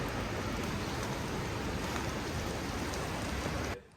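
A river rushes in a steady, dense broadband roar, close and loud, unbroken until it cuts out abruptly near the end.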